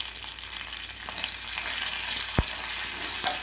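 Curry leaves and dried red chillies crackle and sizzle in hot oil, a steady close-up frying hiss for a tempering of ridge gourd and coriander chutney, with a sharp pop or two.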